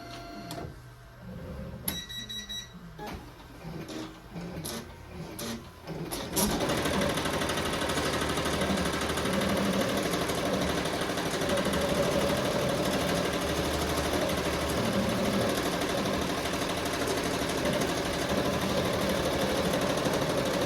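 Melco embroidery machine starting up with a few beeps and clicks, then settling into a loud, steady, rapid mechanical stitching rattle that runs unbroken for the rest of the stretch, close by and with no voices.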